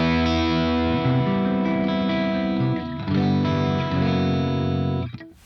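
Chimey electric guitar tone through a Soldano SLO amp, ringing chords sustaining for about five seconds with a brief dip near three seconds, then cut off sharply, loud and alone.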